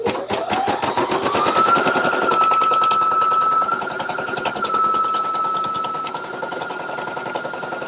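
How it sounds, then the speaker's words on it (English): A Brother PE900 embroidery machine stitches up close, its motor rising in pitch as it spins up, then settling into a rapid, steady needle clatter that runs on evenly to the end. "and then I can just start embroidering."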